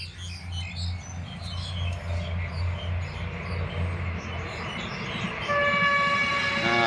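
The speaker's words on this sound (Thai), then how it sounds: "รถไฟผ่านไปนะครับ" A local short-line train bound for Ubon Ratchathani rumbles past a rice field near a young durian plot, a loud, steady rolling clatter of wagons with birds chirping and a horn-like tone rising near the end.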